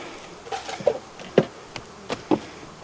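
Honey bees at a beehive after harvest: intermittent buzzing as individual bees fly close past, rising and fading in short bursts against quiet background.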